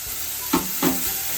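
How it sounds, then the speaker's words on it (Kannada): Chopped tomatoes hit hot oil in a pan for fenugreek leaf and potato palya, giving a steady sizzle with two brief louder hisses and stirring scrapes as they go in. "ಈಗ ಹೆಚ್ಚಿರೋ ಟೊಮೆಟೊ ಹಾಕ್ತಾಯಿದ್ದೀನಿ."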